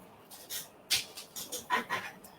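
A huge dog whimpers indoors in a string of soft, breathy, high whines and short pants, faint and close.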